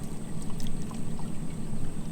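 Roundup herbicide poured from a jug into a sprayer tank, a steady glugging liquid stream running continuously at close range against a low background hum, with no talking.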